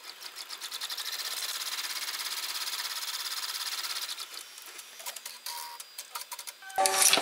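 An embroidery machine stitches a placement line for vinyl on an in-the-hoop envelope card holder, a fast, even mechanical whir and tick for about four seconds, then halting, irregular clicks and a louder clatter at the end.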